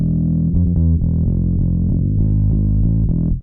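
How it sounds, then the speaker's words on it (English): Distorted low guitar notes run through a JST Heat distortion plugin for a horror thall tone, a loud, sustained, saturated chug with shifting heavy harmonics, played alone without talk. "I added some distortion with JST Heat."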